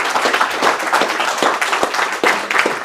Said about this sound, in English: round of applause, Dave Delaney to the stage